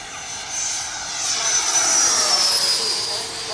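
An RC model jet powered by an 80mm electric ducted fan flies past, its steady high-pitched whine swelling louder toward the middle and easing off again, close and continuous.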